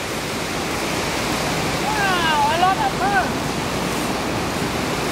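Waves on Đà Nẵng beach in Vietnam make a steady, broad wash of surf that fills the whole stretch, with a brief whistling or squeaky tonal sound rising over it in the middle.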